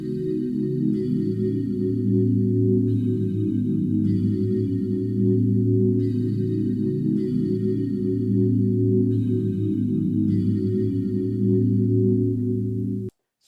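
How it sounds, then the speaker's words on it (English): Omnisphere's Bell Signs synth pad holding sustained whole-note chords in a slow progression, warm and steady with soft bell-like shimmer, continuous at moderate level before stopping abruptly, no voices. "I added this pad called Bell Signs and Omnisphere."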